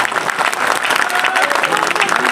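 A large crowd at a poetry recital honouring the Pulwama martyrs in Sitamarhi breaks into loud, dense applause that stays steady and close throughout.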